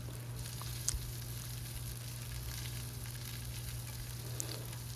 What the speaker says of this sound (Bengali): পটলের খোসাটা দেওয়ার পর ওই এক দেড় মিনিটের জন্য একটুখানি ভেজে নেব